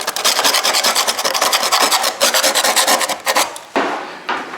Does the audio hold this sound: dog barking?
no